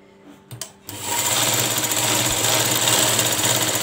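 A sewing machine stitches fabric for a baby's bunny hat, first with a few short clicks and starts, then a steady, close, loud mechanical whir that runs without a break.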